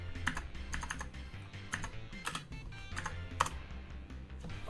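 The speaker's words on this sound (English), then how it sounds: "We just type in random stuff into there." Random text is typed on a computer keyboard, close up: quick irregular clusters of key clicks with short pauses between bursts.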